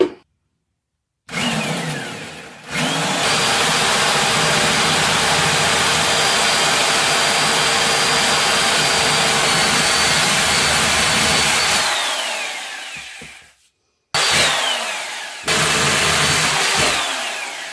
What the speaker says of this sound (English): I'm going to take the drill and do some drilling.